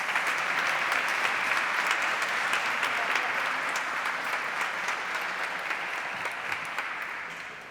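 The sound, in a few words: audience applause welcoming speaker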